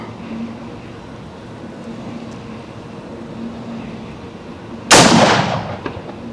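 A single loud, sharp rifle shot from a sporterized SMLE No 4 Mk1 chambered in .303 British rings out at an outdoor range, breaking a quiet hum and decaying with a rolling echo.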